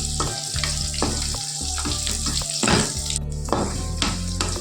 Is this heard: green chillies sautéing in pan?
yes